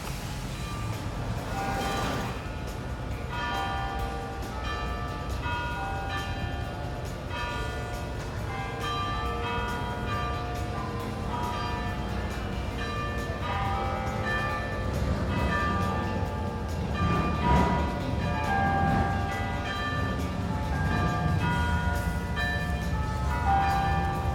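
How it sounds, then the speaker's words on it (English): Church bells ring on and on in St. Augustine, layered tones overlapping into a sustained, resonant peal heard from a distance over faint background rumble. "let's roll the window down and listen to the bells"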